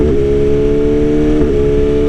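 Carbon BMW S1000RR motorcycle pulling hard in sixth gear, a loud, steady, droning engine note held close and continuous throughout, with wind roar underneath and a slight wavering in pitch.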